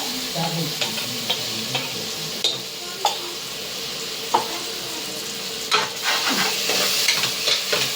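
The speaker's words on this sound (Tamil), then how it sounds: "இது நல்லா பச்சை பாசம் போகிற வரைக்கும் நல்லா வதக்கிக்கலாம்." Ginger garlic paste sautéing in a pan for mushroom biryani after the tomatoes have softened, giving a steady close sizzle and frying hiss with occasional stirring scrapes and clinks, no talking.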